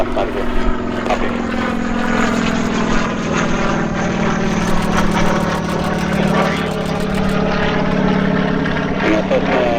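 A red biplane flying over the Oshkosh airshow, its propeller engine droning steadily throughout, with a voice talking over the continuous hum.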